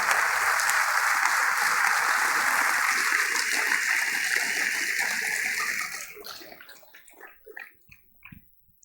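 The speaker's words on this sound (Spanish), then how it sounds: "déselo aplauso, déselo a Cristo, Él se merece eso y más" A church congregation in a theatre claps loudly and steadily for several seconds, a dense wash of applause that thins into scattered claps and fades out.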